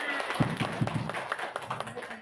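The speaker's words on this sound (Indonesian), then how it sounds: "tepuk tangan untuk semua" A classroom group claps in a short burst of uneven hand claps, brief and fairly close, mixed with some voices.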